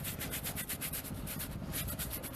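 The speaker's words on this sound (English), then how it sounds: "you want to scrub with this tire brush" A stiff tire brush scrubs hard across a rubber tire during wheel detailing, a steady rhythmic back-and-forth bristly rasp that stays close and loud throughout with no talking.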